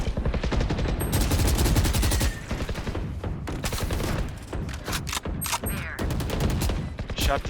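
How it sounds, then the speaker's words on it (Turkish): Rapid automatic gunfire in a tactical shooter match after the spike is planted rattles loud and close in long bursts, with a brief lull midway before the shooting resumes. "Şuradan sıkıyor galiba"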